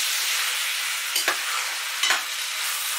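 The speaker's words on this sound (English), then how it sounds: "I need to keep stirring and frying that now to allow the meat to brown" Continuous sizzling of pork frying and browning in a shallow pot for Trinidad-style geera pork, with two brief scraping stirs of a utensil partway through; no voices.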